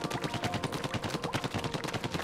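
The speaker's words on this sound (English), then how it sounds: "Shoot ink to reveal the entrances to the Octarian lair." Rapid ink shooting in the Splatoon Octo Valley game mode: a fast, regular burst of wet, punchy shots at close range, repeating steadily without pause.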